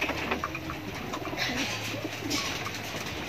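Soft, low pigeon cooing murmurs close by against a noisy outdoor background, with a few faint rustles.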